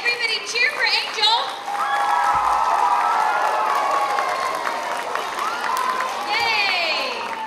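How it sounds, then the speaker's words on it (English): A crowd of children cheers and applauds for a classmate named as a monthly kindness award winner, shrill shouts and steady clapping rising into a sustained loud roar with high excited voices on top. "Yay, everybody cheer for Angel."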